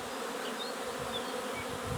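Carpathian honey bee colonies fly actively around their hives at a mountain mating apiary after morning rain, a dense, steady buzzing hum that fills the scene with no voices.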